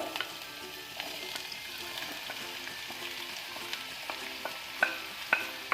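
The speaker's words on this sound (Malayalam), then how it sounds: "2 മീഡിയം സൈസുള്ള സവാളയാണ്, കൊത്തി അരിഞ്ഞ സവാളയാണ്, അതും കൂടി ഇതിലോട്ടേക്ക് ചേർത്ത് കൊടുക്കാം." Chopped medium onions and garlic frying in a pan for chilli chicken gravy, a soft steady sizzle with light clinks and scrapes of stirring growing sharper toward the end, no voices.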